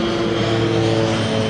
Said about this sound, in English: Yes, a twin engine propeller. No more than 200 feet above me.